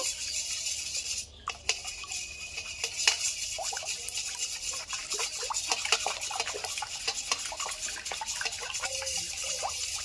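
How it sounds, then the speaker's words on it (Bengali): A spoon stirring edible lime into water, producing light repeated scraping and clinking against a vessel in an irregular rhythm, close and fairly quiet, with no talking. "চুনটা আমি চামচ দিয়ে ভালো করে কিন্তু জলের সঙ্গে গুলিয়ে নেব"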